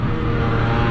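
Yamaha R15 V3 motorcycle on a group ride race, a loud continuous engine roar close by with steady low rumble and no pauses.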